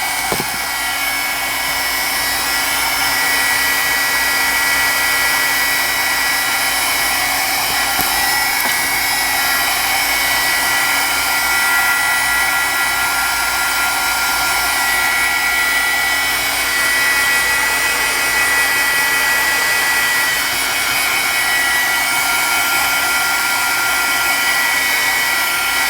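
A hair dryer blows on a mixed media collage to dry it, giving a steady, loud, unbroken whir that holds for the whole stretch with no talking.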